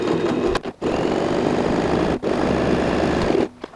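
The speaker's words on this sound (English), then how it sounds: "sew a 1/2 inch stitch starting and finishing with a back stitch" A sewing machine stitches through a folded strap for a zip pouch handbag, running loud and steady in close bursts with two brief pauses for back stitches, then stopping at the end.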